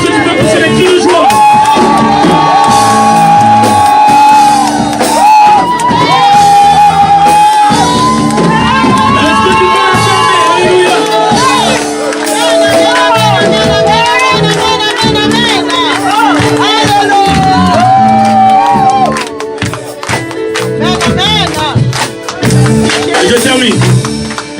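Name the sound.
congregation shouting and cheering with joy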